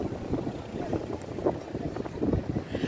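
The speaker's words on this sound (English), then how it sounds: "I know there is a little bit of wind." Low rumbling gusts of wind buffet the microphone steadily outdoors in Aveiro, Portugal, among canals and fast boats, with faint muffled voice-like murmurs mixed in.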